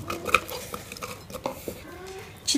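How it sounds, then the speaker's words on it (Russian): Fruit pieces dropped into a sangria jug, heard as a few close clinks and knocks against glass with light handling noise between them and a brighter clatter at the end. "Теперь мы кладем наши фрукты."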